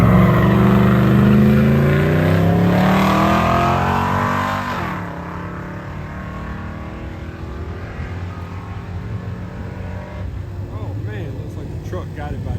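Engines roar loudly as cars and a truck drag race at an outdoor car show, the sound peaking in the first few seconds and then fading into a steadier distant rumble.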